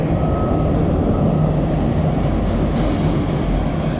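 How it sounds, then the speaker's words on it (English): A two-car Franklin Avenue Shuttle train rumbles past overhead in Brooklyn with a loud, continuous roar and metallic rattle, steady throughout with no voices. "I think we'll see the Franklin shuttle go overhead here."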